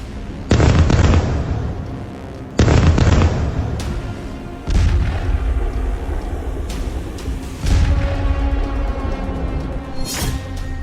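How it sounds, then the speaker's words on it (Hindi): A Russian D-30 howitzer fires in Zaporizhzhia, four heavy booms arriving a couple of seconds apart, each with a rumbling tail that lingers between shots. "ज़ापोरोज़े में रूसी D-30 होइत्ज़र से तबाही।"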